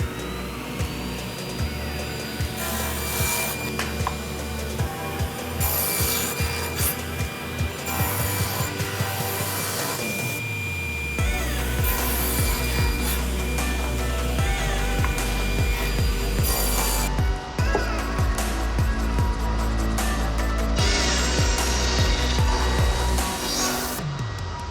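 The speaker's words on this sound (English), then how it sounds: "now we're ready to cut our 2x4 into little 3-inch chunks. And for that, we're going to use our table saw sled with a stop block." A table saw with a sled and stop block cuts a 2x4 into 3-inch blocks, giving a continuous loud motor whine with repeated bursts of blade biting into wood over about twenty-five seconds, and no talking.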